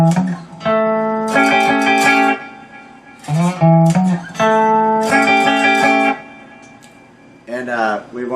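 A cigar box guitar strums chords slowly in a few separate bursts, each ringing with bright harmonics and dropping briefly to near silence in between.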